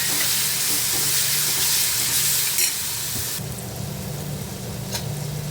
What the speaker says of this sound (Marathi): आता हे जे वाटण आपण तयार केलेलं आहे ते घालायचं आहे त्यामध्ये आणि तेही व्यवस्थित परतून घ्यायचं आहे